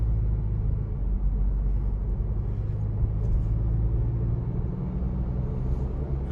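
Cab noise inside a 2021 Ford Bronco with a Bestop TrekTop while driving, a steady deep road and engine rumble filling the cabin, constant and fairly loud with no talk.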